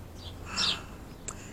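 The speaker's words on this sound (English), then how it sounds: "Sitting on top of there going chirp, chirp, chirp, chirp." A bird chirps outdoors near a wooden deck, one short bright call in the middle and a fainter one near the end, set against a quiet, steady background.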